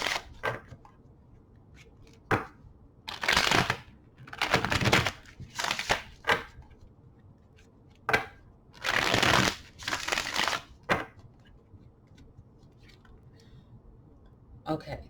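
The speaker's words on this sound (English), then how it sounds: "Let's get 3 shuffles." A tarot deck is shuffled by hand in several bursts of riffling card noise, close and crisp, with quiet pauses and soft handling between bursts.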